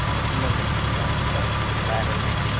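A fire engine idles nearby with its pump running, a steady low diesel rumble and broadband drone that holds constant throughout with no break in level.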